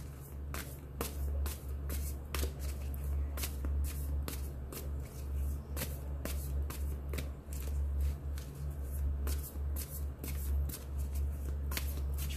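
Tarot cards shuffled continuously at close range, a steady run of crisp riffling flicks and slaps over a low constant hum, with no talking.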